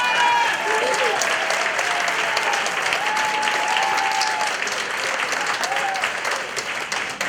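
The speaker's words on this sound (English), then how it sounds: "give this place a round of applause" Sustained applause fills a room at a celebration honoring a family business, steady clapping from a sizable crowd with faint overlapping voices and whistles, tapering slightly near the end.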